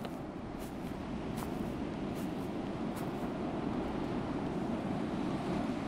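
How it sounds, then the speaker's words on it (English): Rough ocean surf crashes at night in a horror video game, a dense, constant roar of waves with wind noise, steady and loud throughout, no voices over it. "the surf sounds rough tonight"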